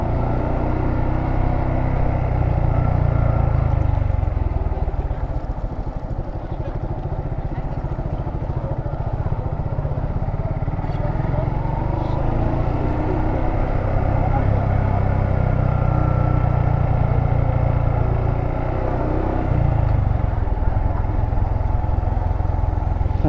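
A motorcycle rides along a road, its engine giving a steady low rumble mixed with heavy wind noise that stays loud and constant throughout.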